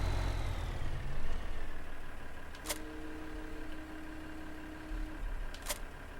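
A Farming Simulator 15 tractor engine drones steadily at a low, faint level, a continuous rumble with a couple of sharp clicks breaking through, no talking.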